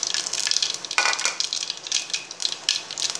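Cumin, mustard seeds, urad dal and fenugreek crackle and sizzle in hot oil for a Tamil mor kulambu tempering, with close, bright, fizzing pops in uneven bursts and no talking.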